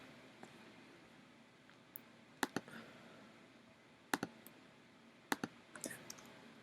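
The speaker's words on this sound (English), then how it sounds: "Command C and Command V on your keyboard" Keyboard shortcut presses on a computer keyboard, Command C then Command V, while copying and pasting code in Dreamweaver: sparse, sharp key clicks in small pairs and clusters over a faint room hiss, no talking.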